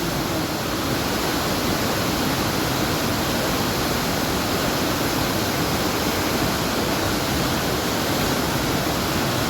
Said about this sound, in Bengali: কাঞ্চনজঙ্ঘা ওয়াটারফলস থেকে জল নেমে আসছে।